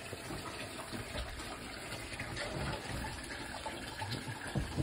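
Water splashing and gushing steadily into a pigs' pen with a shed, a continuous broadband wash of spray close by, with no talk.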